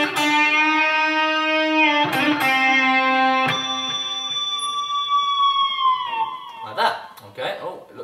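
Sustained, distorted electric guitar notes from an intro lick, several held tones with bends and a few sharp attacks, fading into scratchy noise at the end.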